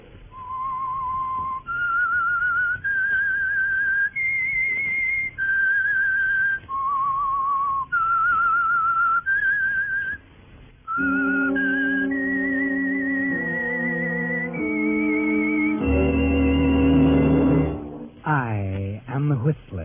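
A lone person whistles the eerie theme of The Whistler radio mystery show, a slow rising-and-falling tune in clear sustained notes, then an orchestral passage with a dramatic swell takes over.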